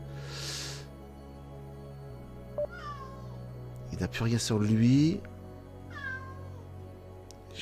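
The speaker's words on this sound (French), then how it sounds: "J'ai juste un petit chat qui est embêtant." A small cat meows several times nearby, drawn-out rising and falling cries spaced a few seconds apart, with someone speaking briefly among them over faint background game sounds.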